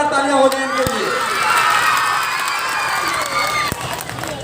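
A quiz contest audience applauding and cheering, a lively crowd mixing continuous clapping with shouts and children's voices, fairly loud and sustained, with a couple of sharp claps near the start and toward the end.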